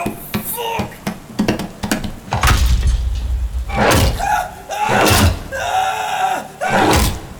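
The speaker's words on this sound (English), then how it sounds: "When it slammed against the dumpster," Audio drama effect of a creature slamming against a metal dumpster, a series of loud heavy bangs, thuds and clattering impacts in irregular bursts, close and forceful, with voices heard in between.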